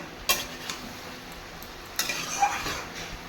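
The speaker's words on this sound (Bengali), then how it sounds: "ভালো করে কষিয়ে নিচ্ছি" A spoon stirring and sautéing spiced young jackfruit curry with green chilli and tomato in a pan: a few sharp scrapes and clinks over a soft background sizzle, close and quiet, with no talking.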